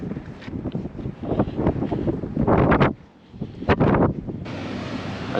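Wind blowing across open California desert during a dirt bike day trip, a steady broadband rush with gusts swelling and easing, loud and close against the microphone, with no speech.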